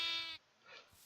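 A single short, bright bleat from a Minecraft sheep, clear and close at the start, then fading into faint quiet game ambience.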